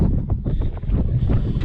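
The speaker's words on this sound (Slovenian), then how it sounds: "Piha, zelo piha na trenutke" Strong wind blusters at a hilltop monument on Petrova gora, a loud, steady roar battering the microphone in uneven gusts with no voices.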